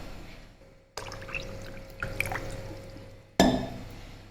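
Drinking water poured into the autosteam tank of a Faber kitchen chimney, a short close pour with gurgling and a few drips, then a sharper splash as more water goes in, faint and alone.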